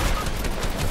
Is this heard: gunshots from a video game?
yes